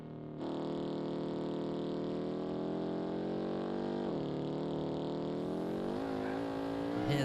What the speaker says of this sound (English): here the turbos kick in